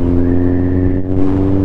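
Kawasaki Z750R motorcycle fitted with an aftermarket exhaust, idling loud and close with a deep, steady rumble and a brief blip of the throttle in the middle, no voices.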